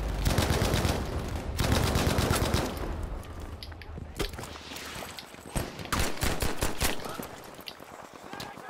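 Gunfire in a video game, rapid bursts of loud shots followed by scattered single cracks and echoing reports, close and dense at first, then more spaced out, with faint voices in the background.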